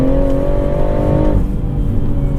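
BMW M140i Shadow Edition engine revving hard, a loud close drone that climbs in pitch then drops off as the revs fall, with no voices.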